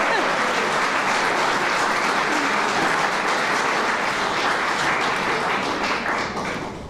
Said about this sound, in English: I hope everyone will clap.